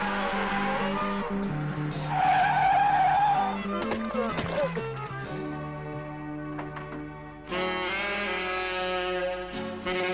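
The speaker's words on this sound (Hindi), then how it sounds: "कार को पीछा करते हुए पहली बार देख रहा हूँ यार" Loud car tyres skidding and squealing during a chase in a Hindi-dubbed Rajinikanth action film, with engine roar and abrupt shifts in the layered soundtrack.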